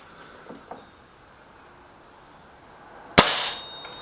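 SMK Mod19 SG air rifle firing a pellet, a single sharp crack close by with a short ringing tail, preceded by quiet faint handling clicks.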